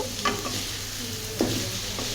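Vegetables with turmeric and salt frying in a pan, a steady close sizzle with a couple of stirring scrapes, no talking.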